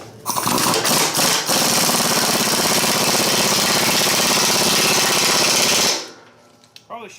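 Power torque tool tightening cutting edge bolts on a big plow, a loud continuous rattling hammer burst lasting about five seconds before cutting off abruptly, followed by faint handling sounds.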